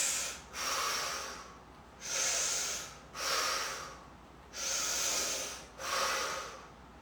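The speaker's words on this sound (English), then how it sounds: "And I'm going to take 3 big breaths." Deep breaths drawn during a stress-relief stretching exercise: five long, close breaths with a steady rhythm and short pauses between them, heard alone with no talking.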